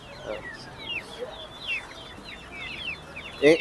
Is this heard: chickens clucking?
yes